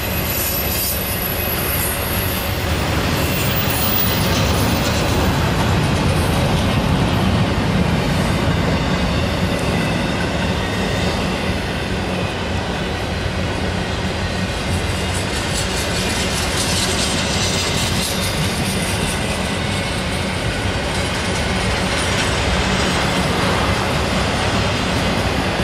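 A westbound train rolls past on the Chicago line near Vickers, a loud, sustained rumble of wheels and railcars with a high steel squeal, heard close by for the whole stretch without speech.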